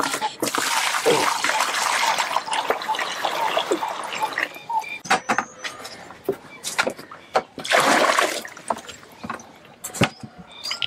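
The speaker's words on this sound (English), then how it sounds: "Once the water boils, using just paper to protect his hands, he has to move the water from the pan" Boiled water is poured from a pan into a bowl, with bursts of splashing and running water, a pause with scattered knocks and drips, then another pour near the end, and a faint voice in the background.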